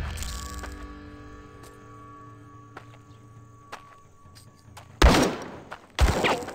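Gunfire in the Guns at Dawn video game: two loud, sharp musket-like shots a second apart near the end, following a quieter stretch of faint clicks and hum.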